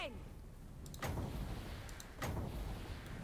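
Two heavy booming cannon blasts about a second apart stand out from a faint, noisy background, cannon fire in Total War: Warhammer III.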